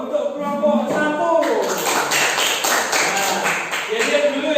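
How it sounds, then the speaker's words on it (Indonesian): Classroom applause for a student group, a burst of clapping from many hands that builds after a voice speaks and continues steadily before fading as talk resumes. "sekarang beri tepuk tangan dulu untuk kelompok 1"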